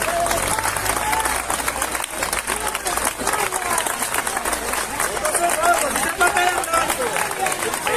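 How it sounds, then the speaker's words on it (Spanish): Sustained crowd applause, dense clapping from many hands mixed with cheering and babble, loud and continuous throughout. "Un aplauso, por favor."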